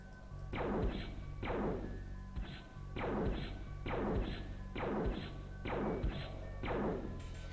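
Repeated shots from the X-Com video game fire at a steady pace, about eight heavy thudding impacts at even intervals of under a second, loud and without talk.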